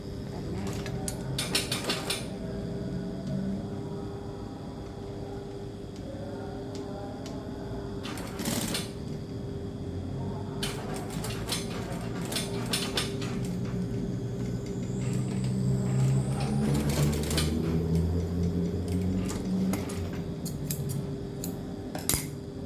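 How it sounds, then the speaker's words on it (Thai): Sewing machine stitching fabric to a hat, with repeated bursts of rapid needle clatter between pauses, near and steady over a constant motor hum. "เราก็จะมาจับตรงหมวกเย็บติดไว้ก่อน"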